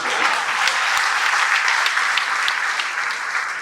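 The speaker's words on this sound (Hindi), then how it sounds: "आप तालियां वगैरह पीटते" Dense, steady applause from a large audience at a public address, many hands clapping continuously and loudly for several seconds with no speech over it.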